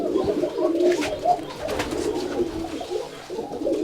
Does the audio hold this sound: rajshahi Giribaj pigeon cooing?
yes